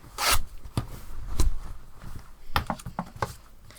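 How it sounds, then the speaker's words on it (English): An old cotton man's shirt is ripped apart by hand in several harsh, raspy tearing bursts, close and loud, with short pauses between pulls. "This fabric's ripping so easily."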